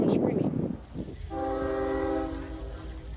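Locomotive 0823 sounds a long, steady multi-tone horn near railway signals, loud and sustained after rumbling train noise and a brief voice at the start.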